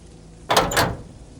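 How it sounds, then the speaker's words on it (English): Two hard, heavy slams hit a back door in quick succession, loud and close against an otherwise quiet background, on a rainy night. "something slammed into the back door, hard, then again."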